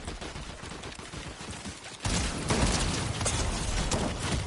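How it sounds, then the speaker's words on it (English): Rapid gunfire in the Fortnite video game, a dense crackling barrage that jumps louder halfway through and continues steadily. "the bot over here shooting at me."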